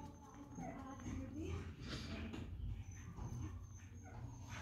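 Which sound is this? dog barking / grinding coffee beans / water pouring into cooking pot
dog barking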